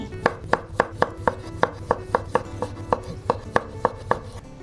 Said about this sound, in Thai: หั่นมะเขือเทศราชินี